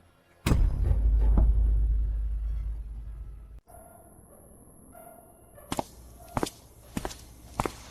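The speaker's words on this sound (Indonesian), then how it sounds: "Ada suara langkah kaki." Footsteps approaching in a hostage scene from a drama, a heavy thud and a low rumble followed by a series of sharp, distinct steps or knocks that grow clearer near the end, with no speech.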